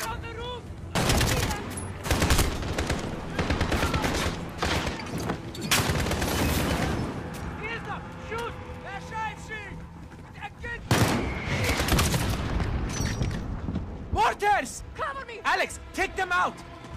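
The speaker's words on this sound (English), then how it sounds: "For the muzzle flash when they fire." Gunfire in a Modern Warfare video game campaign, with loud bursts of automatic rifle fire and single shots, some booming impacts, and voices talking throughout.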